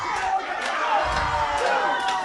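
A wrestling crowd is worked into a frenzy, making a steady, loud roar of cheering and shouting that swells briefly in the middle, with a commentator talking over it.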